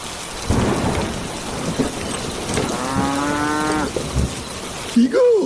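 Steady rain falls through a night thunderstorm, with low thunder rumbles and a few drawn-out cattle moos rising over the downpour.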